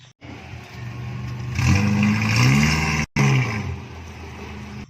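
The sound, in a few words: toy Jeep off-road car engine revving sound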